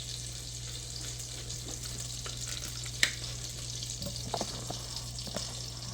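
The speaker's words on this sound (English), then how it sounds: "then we're gonna put the onions into the butter" Chopped onions sauté in melted butter with a soft, low sizzle under a steady background hum, broken by a few light utensil clicks and one sharper tap midway.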